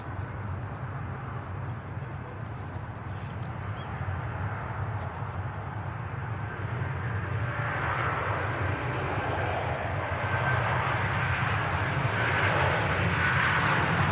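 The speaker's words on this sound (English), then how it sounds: "Here goes the Virgin Atlantic A330 300 series, heading off to Bridgetown, Barbados." A Virgin Atlantic Airbus A330-300 takes off for Bridgetown, Barbados, its engines a broad, steady roar heard from a distance that swells gradually louder over the whole stretch, with no voices.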